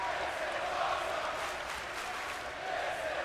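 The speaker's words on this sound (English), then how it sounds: "You hear the crowd chanting, "This is awesome."" Virtual arena crowd noise in the wrestling video game WWE 2K18, a steady wash of audience chanting and cheering at moderate, distant level throughout.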